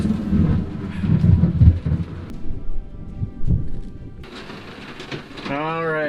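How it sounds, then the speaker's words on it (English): Low rumbling thunder rolling in the distance over rain, with a voice briefly speaking near the end. "And there's some thunder."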